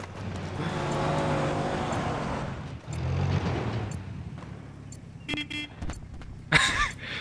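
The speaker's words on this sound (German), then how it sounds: "wir hupen hier schon wieder" A vehicle horn sounds in Battlefield 3 over a loud engine drone, with brief, tonal honks and clatter near the end of a busy multiplayer conquest match.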